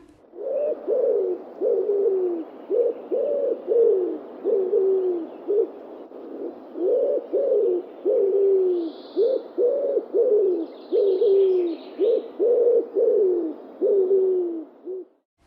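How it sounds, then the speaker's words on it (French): Repeated soft, hooting coos from a wood pigeon, delivered in rhythmic phrases with brief pauses between, close and clear against a quiet background. "nous avons premièrement le pigeon ramier, aussi appelé palombe"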